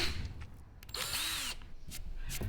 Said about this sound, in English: Now it's just a matter of drilling a hole all the way through your board